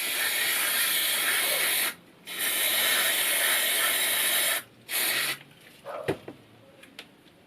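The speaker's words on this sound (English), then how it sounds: "Spray brake fluid in here." Brake cleaner sprayed onto the brakes of a Honda VFR 750 motorcycle: two long, loud, steady hissing bursts, then a shorter one, followed by faint clicks and handling noises.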